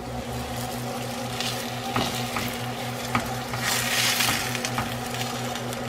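Oil frying in a hot pan while cooking chicken tacos, a continuous close sizzle and crackle under a low steady hum, with scattered scraping taps from stirring and no talk.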